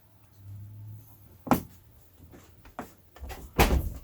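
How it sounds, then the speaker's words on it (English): A closet door in a home bumps shut, with a couple of sharp, close thuds and some quieter handling noises in between. "Oh, sorry, I closed the door on you."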